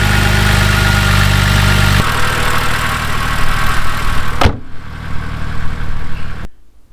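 A car engine idles steadily, loud and close, right after a jump start with a GOOLOO portable booster. One brief knock lands midway, and the sound cuts off at the end.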